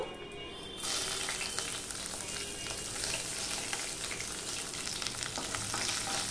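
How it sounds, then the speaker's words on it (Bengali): Garlic dropped into hot oil in a pan for chana masala, after green chillies, bursts into loud, steady frying and sizzling with a few stirring scrapes, close and continuous with no talk. "এবার সবার প্রথমে আমি রসুনটা দিয়ে দেব"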